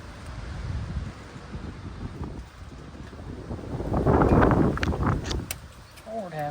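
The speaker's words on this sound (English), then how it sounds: "Wind is blowing." Wind blows outdoors beside a boat under restoration: a steady broadband rush that swells into a stronger gust near the end, with a faint brief tone at the close.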